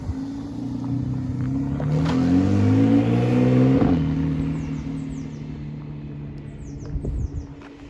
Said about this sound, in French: Il y a juste une Porsche qui va passer ici. Donc 911 991 Carrera GTS.